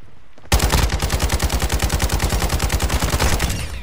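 Light machine gun fire in a video game: a loud, close, sustained automatic burst of rapid, evenly spaced shots that starts abruptly and runs to the end, with no voices.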